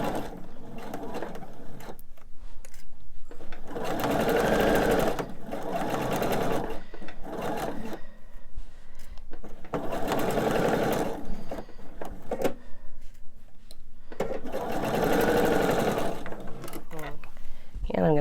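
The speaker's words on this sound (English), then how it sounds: "I'm gonna get that last seam sewn" A sewing machine stitches the last seam of a fussy-cut Rock Candy quilt block, pinned pieces fed through. It runs in three close, steady whirring bursts of a few seconds each, separated by short pauses.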